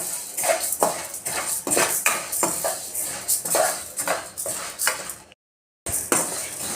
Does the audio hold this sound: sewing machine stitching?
no